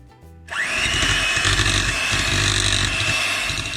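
An electric mixer beats butter, icing sugar and a tablespoon of milk into vanilla buttercream, whirring loud and steady close by for about three seconds after a short start, with no talk.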